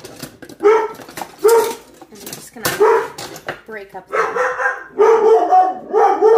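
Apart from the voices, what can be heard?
dogs barking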